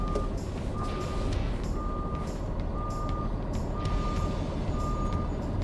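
A Peterbilt trash truck pulls out with its engine rumbling loud and close while the reversing alarm gives evenly spaced electronic beeps throughout, over a dense, steady motor drone.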